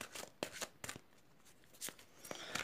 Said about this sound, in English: I do like to shuffle as the energies are flowing while I'm recording